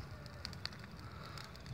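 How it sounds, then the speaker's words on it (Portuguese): An outdoor campfire burns with a low, steady crackle, broken by a couple of sharp pops; the sound stays faint and close throughout. "Vou jogar isso no fogo."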